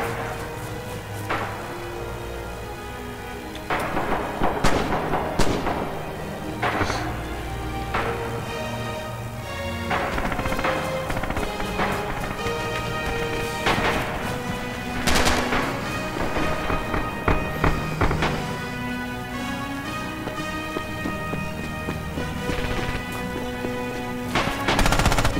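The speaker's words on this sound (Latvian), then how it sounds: "Automāti šaut." Automatic weapon fire on the Station map of Red Orchestra 2, a World War II shooter: repeated bursts of close, rattling rounds with scattered louder single cracks, continuing almost nonstop throughout.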